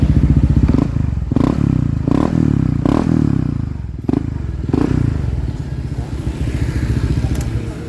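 Motorcycle exhaust with a muffler freshly repacked with new white glass wool, idling close by with a steady throb and a few blips of revving, punctuated by occasional clattering thumps.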